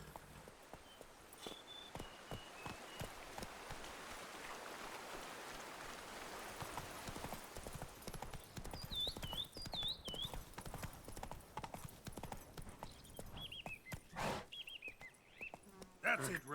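Roach the horse from The Witcher 3: Wild Hunt, Blood and Wine, clip-clopping at a steady gait, the hoofbeats growing from soft to quicker and more distinct, with light rain and occasional bird calls in the background.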